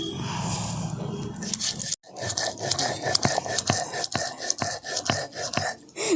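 Mustard, poppy seeds and green chillies are ground together by hand on a stone, with a rough scraping first and then a run of sharp rhythmic grinding strokes close up, plus faint murmured voices.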